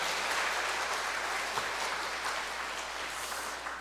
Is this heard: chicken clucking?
no